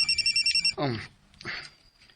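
A cellphone rings with a repeated bright electronic tone, then stops as people start talking nearby.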